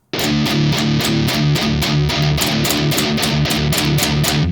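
Heavily distorted electric guitar chugs a fast galloping riff with the pick angled, a tight palm-muted triplet rhythm repeating evenly, loud and close with no talking.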